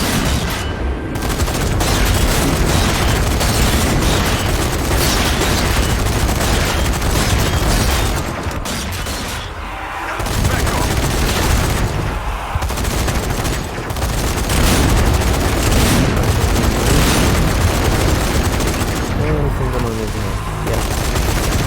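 Zombie Army 4 horde-mode combat with a mounted turret firing continuously, a loud dense roar of automatic gunfire mixed with booming explosions, with a few short dips, while a player speaks over it.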